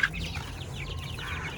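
Farm chickens near a factory give soft, quick clucks over a low background rumble, with a faint, brief call at the very start.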